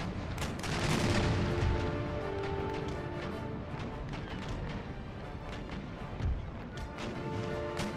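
Naval cannon broadsides from sailing warships in Empire: Total War, a dense, continuous barrage of booming shots and crashes rolling on for several seconds at steady loudness, with no talk.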